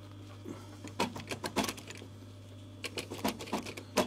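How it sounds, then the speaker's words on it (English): Sewing machine stitching a pocket onto tape for a VW T5 Transporter seat cover, with a steady motor hum under short bursts of rapid needle clatter and pauses between runs. "I'm going to sew all the way from the end"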